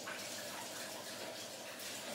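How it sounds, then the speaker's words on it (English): Water runs steadily from a kitchen tap as hands are washed, a continuous broadband splash and rush close by, unbroken for a couple of seconds with no voices. "So I'm just going to wash my hands."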